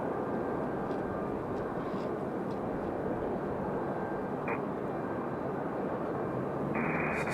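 A Southwest Airlines airliner taxis at Raleigh-Durham International Airport, its engines giving a steady, loud broadband roar throughout with a faint tonal whine and a brief higher tone near the end.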